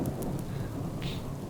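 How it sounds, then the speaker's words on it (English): A storm in the Subsistence video game, steady loud rain with a low rumble of thunder beneath it, heard alone without talk. "Oh no, it's still thunder, it's still lightning."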